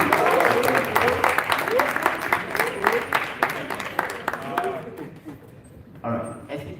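An audience at a health forum claps to welcome a professor, distinct hand claps close and steady at first, then thinning and fading out near the end as a voice resumes.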